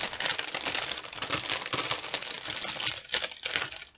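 Plastic packaging on notebooks crinkles close by in continuous, irregular rustling bursts with no talking.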